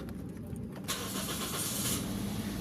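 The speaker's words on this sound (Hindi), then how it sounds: "गाड़ी स्टार्ट हो चुकी है" A misfiring car with new spark plugs and ignition coils starts up: a brief cranking whir, then the engine catches and settles into a loud, steady idle close to the microphone.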